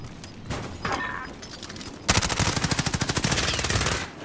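Gunfire in a first-person shooter game: scattered shots and a pause, then a loud, fast automatic burst of evenly spaced rounds hammering on for about two seconds.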